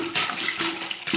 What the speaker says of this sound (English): You see water flowing into the bag, and now it will just flow freely once you've got it pumped a couple times